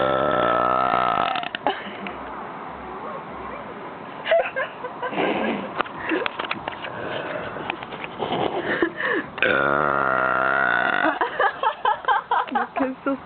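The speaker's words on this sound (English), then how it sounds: "Burp again." A person burps repeatedly and loudly up close, several long belches spread across the stretch with short pauses between them, and a rapid string of shorter burps near the end.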